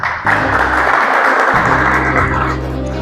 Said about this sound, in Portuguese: por favor, aplausos para Edmara Antônio.